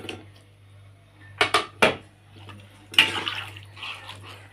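Fish going into a pot, then a lid set on top, make a few loud close metallic clanks and knocks over a low steady hum, followed by a short rattle and a faint watery splash.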